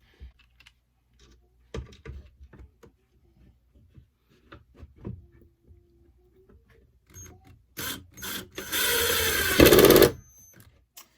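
Screws are driven into a wooden Calico Critter doll house built from scratch. Scattered light clicks and taps come first, then a loud, close, whirring burst from a driver lasts about two seconds near the end.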